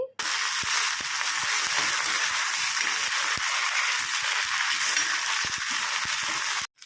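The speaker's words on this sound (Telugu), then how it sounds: "కరివేపాకు వేసుకొని ఫ్రై చేసుకోవాలండి" Green chillies and curry leaves frying in hot oil, a loud continuous dense sizzle with faint crackles, running without talk until it cuts off at the end.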